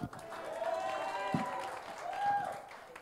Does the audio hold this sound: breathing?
no